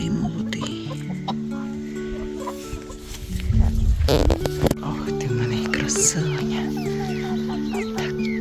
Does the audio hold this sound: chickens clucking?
yes